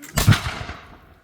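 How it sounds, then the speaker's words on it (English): A company's musket volley fired in a demonstration at Fort Meigs, a single loud, close blast with a rumbling tail that fades over about a second. "So one more company fire. Please give fire, sir."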